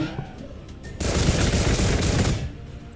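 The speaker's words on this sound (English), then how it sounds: "Take a pot shot." Burst of sustained gunfire from the Gladius: Relics of War strategy game, a dense loud volley starting suddenly and rattling for about a second and a half before cutting off, with quieter game ambience around it.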